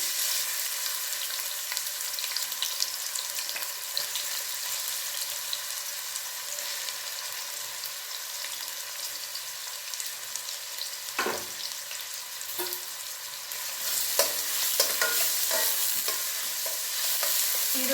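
Onions and green chillies fry in hot oil for a chicken liver pepper gravy, a continuous close sizzle with occasional spoon clinks and stirring scrapes that grow busier toward the end.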